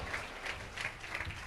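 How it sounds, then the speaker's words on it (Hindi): A congregation claps together during a Hindi-language Sunday church service, a steady roomful of applause with rhythmic bursts roughly every third of a second, fairly close and filling the space. "जोर से ताली बजाकर परमेश्वर को महिमा करें।"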